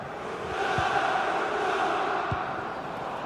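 Visiting supporters in a FIFA 21 Serie A stadium, Cagliari versus Milan, a steady distant crowd roar and chanting swelling and easing, with no clear commentary over it.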